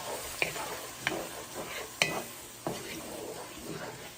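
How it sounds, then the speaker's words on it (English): Crusted chicken being deglazed with tomato juice in a hot pan: a steady sizzle with a few sharp stirring scrapes and knocks spaced about a second apart, close and moderately loud, with no talking. "But deglazing the crusted chicken with the tomatoes."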